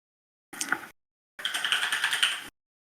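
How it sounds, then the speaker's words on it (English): Two bursts of rapid clicky tapping, the first short and the second longer and steady, like keys being typed on a keyboard, with no talking. "That's not writing. That's typing."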